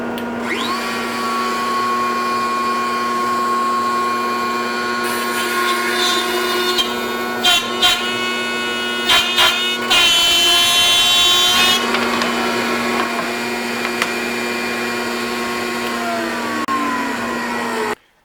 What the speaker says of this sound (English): I'll make a plunge cut at the starting mark and I'll end it at the stopping mark